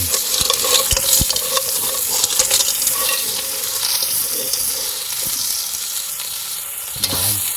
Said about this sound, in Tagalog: Igisa lang natin hanggang magbuka.